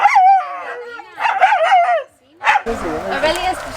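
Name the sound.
dogs barking at an elephant sanctuary in Sri Lanka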